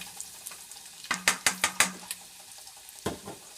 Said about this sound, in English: and then I let that saute until the garlic is soft and the onions are translucent